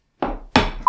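Two sharp knocks of a hammer striking a watch crystal, cracking it, followed by a bright ringing tone at the end.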